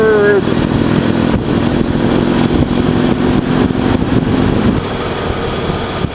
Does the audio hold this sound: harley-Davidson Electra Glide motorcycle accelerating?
yes